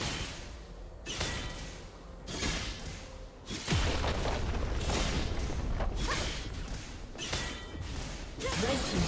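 Game sound effects from a League of Legends match in which a turret is destroyed: repeated heavy crashing booms and whooshes in bursts, loud and dense, with a sharp impact partway through.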